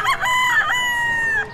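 A bullstag rooster, a young gamecock, lets out a single loud, sustained crow up close, clear and alone without talk.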